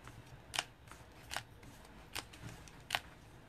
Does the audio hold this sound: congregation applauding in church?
no